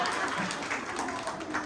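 Applause from a home-event audience at a comedy ukhane session held at a Tanishq jewellers branch on Sinhagad Road, steady and moderately loud throughout, with faint talk mixed in.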